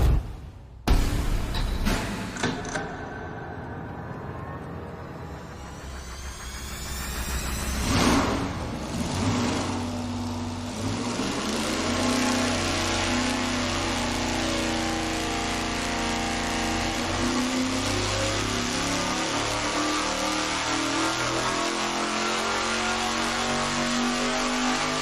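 Car engine on a dyno during a full pull from 3,500 to 6,500 rpm: after a sharp startup burst, a loud, continuous roar builds steadily in pitch and holds at high revs with no talk.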